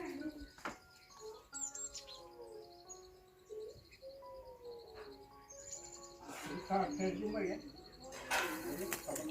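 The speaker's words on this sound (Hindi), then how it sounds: "देखो ये चिड़िया देखो।" Small birds chirp and tweet in short bursts around a rural ancestral home in Pauri Garhwal, Uttarakhand, with people talking now and then.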